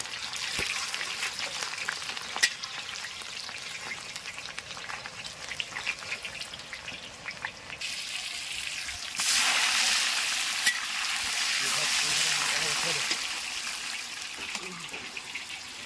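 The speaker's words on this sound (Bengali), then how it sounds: "হালকা একটু লাল করে ভেজে নেব।" Onions sizzling in hot oil as they fry for a Bengali katol fish curry, a steady crackling hiss that swells louder partway through, with occasional stirring clinks and no speech.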